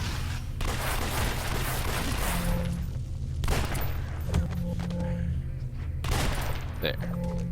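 Rapid bursts of incendiary-round gunfire in a shooter video game, dense and continuous with heavy low-end rumble, layered under game effects and a voice talking.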